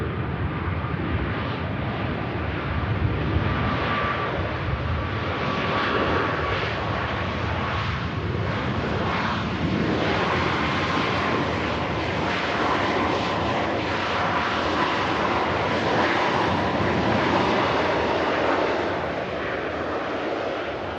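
A Ryanair Boeing 737 Max 8 arriving from Faro, Portugal, passes Manchester Airport with a loud, steady jet engine roar that fills the air continuously from start to finish.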